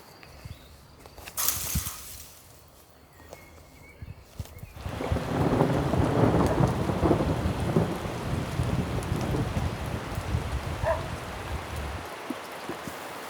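Heavy rain starts abruptly and pours hard at close range after a near-quiet opening with a sharp crack, a steady dense hiss over a low rumble of thunder.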